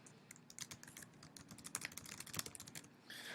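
Rapid, irregular keystrokes on a computer keyboard while entering text in a document, close and fairly quiet, with uneven bursts of clicks and a brief louder patch near the end.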